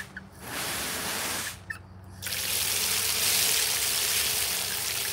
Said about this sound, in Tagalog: Kaya kailangan ko itong punuin ng tubig